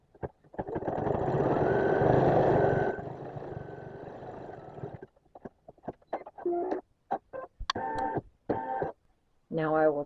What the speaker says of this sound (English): Now it's going to stitch it in place.